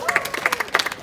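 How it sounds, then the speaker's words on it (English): Audience at a Miss International Uganda pageant clapping in a loud, quick rhythm of distinct nearby claps, with faint crowd murmur beneath. "Ladies and gentlemen, please. Clap for Evelyn Chironde"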